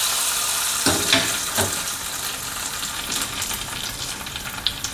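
Hot oil tempering of two red chillies and curry leaves hisses loudly over ponnanganni keerai greens, a steady close sizzle with a few brief crackling bursts throughout.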